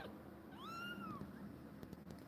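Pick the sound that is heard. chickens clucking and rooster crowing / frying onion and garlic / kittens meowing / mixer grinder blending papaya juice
kittens meowing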